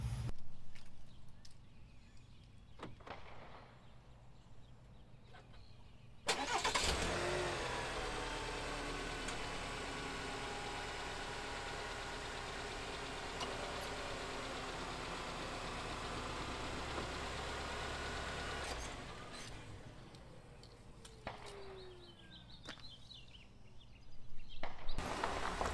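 A Chevrolet Silverado pickup with a 2.7-litre engine at 54,000 miles starts up on 5,300-mile-old oil and idles steadily for about twelve seconds, then shuts off, leaving quiet background movement.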